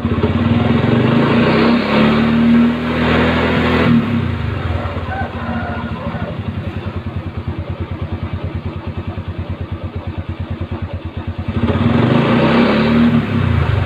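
A motorcycle engine is started and revved during a battery charging check with a multimeter, rising from a steady idle into a sustained throttle run with a throbbing, pulsing rhythm. It is loud and close, with no talk over it.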